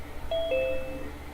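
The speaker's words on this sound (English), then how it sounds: "Is it the Zoom doorbell?" Two bright electronic chime tones ring out in quick succession, a ding-dong signalling someone joining a Zoom call, clear over a quiet room background with no speech.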